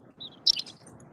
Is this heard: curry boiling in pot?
no